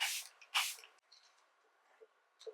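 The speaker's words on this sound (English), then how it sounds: "I'm gonna spray my face again, so everything is conjoined." A setting spray mist is spritzed onto a face during makeup, two sharp close bursts of hiss followed by softer faint rustles and small sounds.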